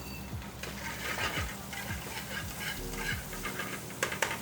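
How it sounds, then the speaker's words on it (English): Shallots sweat in a hot pan with a steady low sizzle, broken by the repeated scrape and clink of a utensil stirring the pan, close up and with no talking. "Sweat these shallots down."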